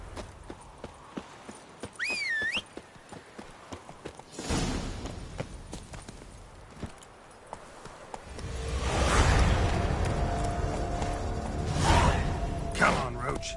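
Roach, the horse in The Witcher 3, gallops as hooves clip-clop, at first under voices and whooshing game effects, then a louder rush of hoofbeats and movement builds toward the end, with a brief neigh-like squeal early on.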